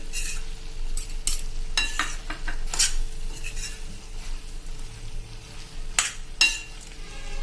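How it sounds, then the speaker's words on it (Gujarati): Spiced black chickpea curry with ghee is stirred in a pan, giving close scraping and clinking of a spoon against the metal over a faint sizzle, in irregular strokes without talk. "હવે આ બધું આપણે સરસ મિક્સ કરી લેશું."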